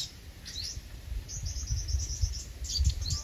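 A wild bird perched outside a bird trap cage gives short, high chirps and a quick run of repeated tweets, fairly faint, over outdoor insect hum and low background rumble.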